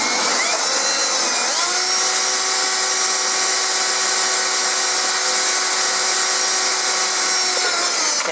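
A drill bores a hole in the metal engine-bay downbars of a 1966 GMC, a continuous loud, steady whine with a slight pitch shift as it bites, running unbroken and close.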